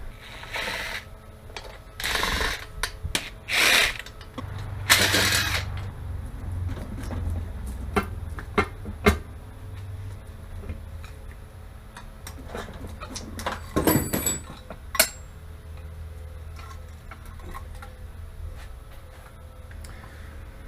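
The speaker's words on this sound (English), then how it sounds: "Looks like I'm going to have to take off the valve cover" Valve cover being removed from a supercharged Vespa microcar engine, scattered ratcheting clicks, metallic taps and scraping at close range, with some faint bird sounds in the background.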